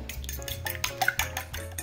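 An egg is beaten briskly in a bowl with a utensil, giving rapid, rhythmic clinking and tapping strokes against the side, steady and close.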